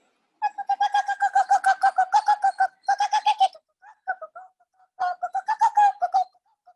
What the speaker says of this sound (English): just listening to the chirping of the birds